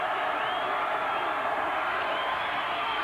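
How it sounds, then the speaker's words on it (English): A college football bowl crowd at Toledo versus Nevada roars steadily from the stands, a dense wash of cheering that holds at full loudness throughout. "The Toledo crowd is giving them what for."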